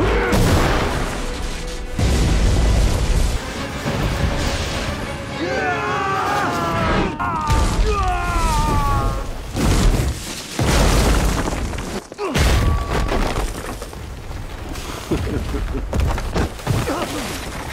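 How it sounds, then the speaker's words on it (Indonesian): Film sound effects from Dynasty Warriors fill a busy battle scene: deep booms, metallic clashes and shattering bursts come in loud waves, mixed with shouting voices and dramatic music. "saat senjata mereka saling terbentur, tiba-tiba"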